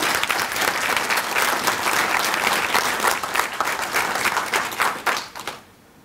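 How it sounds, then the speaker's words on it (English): Sustained applause from an audience at an academic ceremony honouring a teacher-education professor, steady and dense for about five seconds before fading out into near silence at the end. "let's give her another round of applause."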